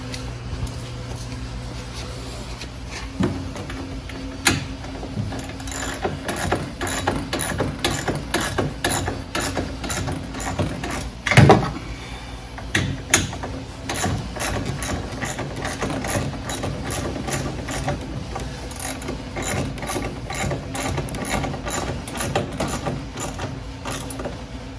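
A ratchet wrench tightens a nut while a Venom Motorsports Mini Jeep 125cc is assembled, giving long runs of rapid, close clicking with brief pauses and one louder clunk midway.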